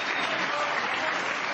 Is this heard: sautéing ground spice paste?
no